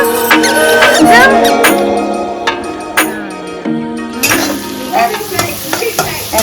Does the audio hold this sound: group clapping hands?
no